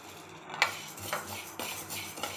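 Lentils and roasted gram are dry-roasted in a pan. A metal spoon scrapes and clinks against the pan in four or five distinct stirring strokes, with no sizzle.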